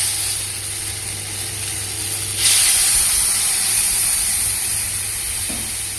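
Water poured into a pan of frying fish for a Bengali fish curry with radish and potato, giving a sudden loud burst of steam and hiss over a steady sizzle, close by.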